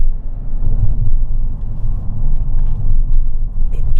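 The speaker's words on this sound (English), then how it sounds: "I put my foot down a little bit, and I was so impressed at the noise that this vehicle makes." An Alfa Romeo 159 diesel engine revs under load, giving a steady, loud, low rumble with a slight rise and fall and no talking.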